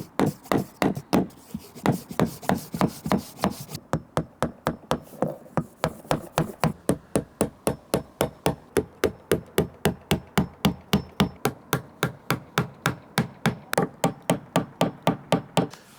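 Steady, rapid hammer blows drive nails into a wooden soffit board on a garden room roof, a long even run of sharp close knocks with no talking.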